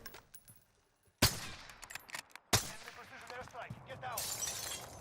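Assault rifle fire in Call of Duty Warzone, two sharp loud bursts of shots with shattering game effects and lingering noise between, no talk over it.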